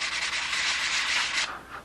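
Hand sanding on the wood of a Strega 7 model plane gives a steady, close rasping rub that runs continuously, then fades and trails off near the end, with no voices.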